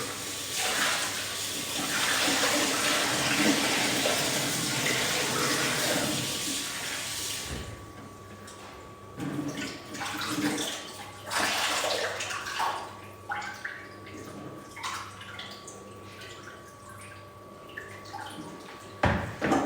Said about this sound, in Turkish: Elimize yıkamışız arkadaşlar.